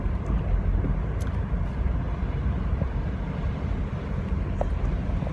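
Steady low rumble of a car cabin while driving on the way to an office, continuous road and engine noise throughout with no talking.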